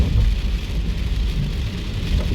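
Rain falls heavily on a moving car in East Las Vegas, a steady, dense patter and hiss over a low rumble of road noise, loud and close throughout with no voices.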